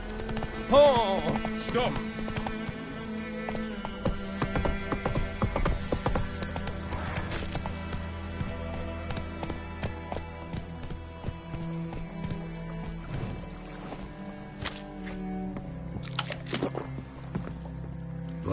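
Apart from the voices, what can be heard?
horse hooves clip-clopping while riding, from the video game The Witcher 3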